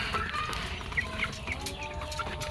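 Free-range native chickens cluck softly amid a steady background hum, with a few short calls rising now and then.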